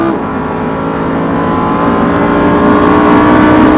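A Lamborghini engine on a race track rises steadily in pitch as it accelerates after an upshift, loud and close from inside the car, a sustained building roar with no break.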